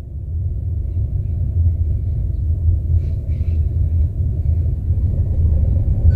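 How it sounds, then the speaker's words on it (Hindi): A new Hyundai i20 lugs along in third gear at about 600 RPM and 17–18 km/h. Its engine makes a steady, deep, close rumble with no voices. "ये लगभग 600 आरपीएम पर चल रही है अभी कार"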